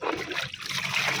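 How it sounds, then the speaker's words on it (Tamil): Water poured into a container of soaked vegetable-waste liquid fertilizer, a steady, close trickling and splashing pour that lasts the whole moment with no voices. "இதில் தண்ணியை கலந்து"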